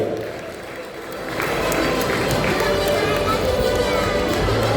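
An outdoor crowd breaks into sustained clapping for the ladies' lemon-and-spoon race prize winners, the applause swelling after a second and continuing steadily.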